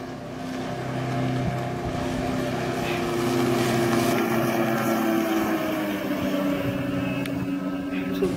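A jet ski passes nearby on the water, its engine droning loudly and steadily with a shifting whine as it goes by, heard from another boat with engine rumble underneath.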